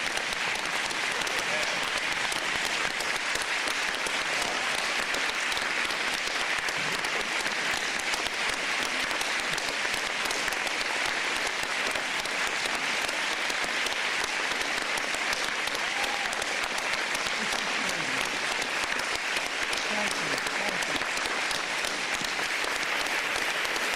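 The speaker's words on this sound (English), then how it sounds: "let me ask for another round of applause for our 2019 Nobel laureate" A large crowd gives Nobel laureate Jim Peebles a long, sustained round of applause at a Princeton University press conference, thick, even clapping that holds steady at full strength without letting up.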